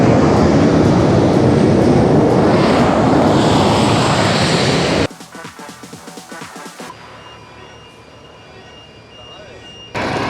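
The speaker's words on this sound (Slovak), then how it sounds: "keď prilieta alebo odlieta lietadlo, premávka sa zastaví, počká sa, kým prejde lietadlo" An airplane passes over the Gibraltar airport runway, where road traffic halts at a barrier, giving a loud, broad roar for about five seconds before it drops to a quieter background.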